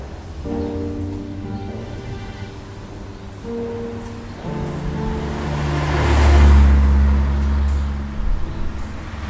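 A car is started and driven off nearby, its engine rising from a low idle into a swelling rev that peaks and then fades, with steady hum beneath and no talk over it.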